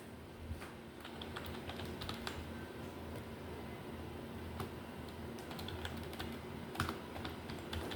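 Steady keyboard typing while an address form is filled in during a food-delivery home-chef registration, faint continuous key clicks with a few louder taps and no talking.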